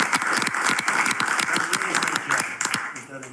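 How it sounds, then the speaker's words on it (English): Applause in the room during a Trump cabinet meeting: a patter of many hands clapping at moderate volume for a few seconds, mixed with voices talking over it. "Applause for Elon."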